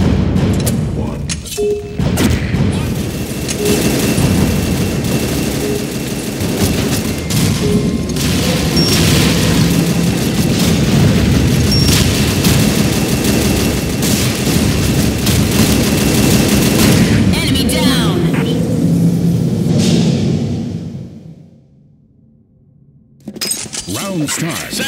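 Dense gunfire and explosions from the online shooter game Combat Arms, a loud continuous barrage of shots and booms that suddenly drops to near silence, then resumes briefly at the end.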